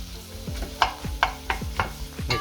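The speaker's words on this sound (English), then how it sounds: "make sure the pot is hot, and we add the sausage, the onions and the garlic" Sausage, onions and garlic stirred with a wooden spoon in a hot oiled pot, a soft sizzle under a steady run of about five distinct scraping strokes, close and fairly quiet.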